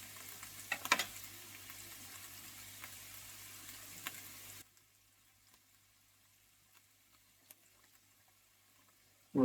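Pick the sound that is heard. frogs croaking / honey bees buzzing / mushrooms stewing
mushrooms stewing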